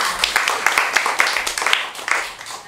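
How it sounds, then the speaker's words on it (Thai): An audience claps at a Thai traditional medicine clinic's certificate ceremony, a loud, close burst of many hands clapping at once that tapers off over a few seconds. "ขอเสียงปรบมือ"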